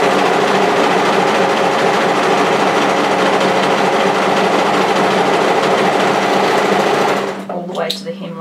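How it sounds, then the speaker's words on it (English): An overlocker stitching the underarm seam of a one-shoulder top, a loud, fast, continuous motor whir close by that stops near the end, with a voice talking afterward. "So join those and overlock them together from the underarm point"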